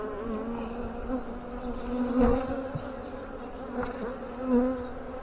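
Honeybees drone in a dense, steady hum during an open hive inspection, close and continuous, with a few brief knocks and swells in loudness as the frames are handled.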